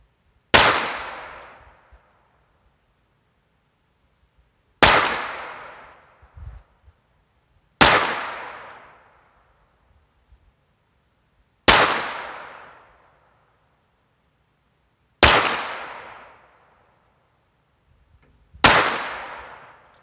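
Six loud gunshots from a Heritage Barkeep revolver firing Aguila Super Extra ammunition, each a sharp crack with a fading tail, spaced three to four seconds apart in an otherwise quiet outdoor setting.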